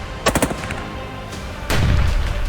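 Gunfire rings out near a café in Surrey, Canada, captured in news footage: a quick burst of several sharp shots, a pause, then a louder, denser volley of firing, with no talking.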